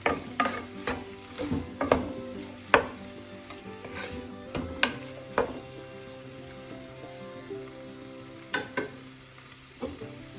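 Vegetables frying in a pan for egg vegetable rice, stirred with a utensil: a low sizzle under repeated sharp scraping and clinking strikes at an irregular pace, close and fairly quiet.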